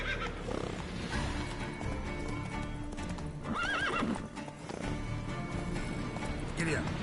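Roach the horse gallops in The Witcher 3, with rapid rhythmic hoof clip-clops running throughout and a couple of whinnies rising above the steady hoofbeats.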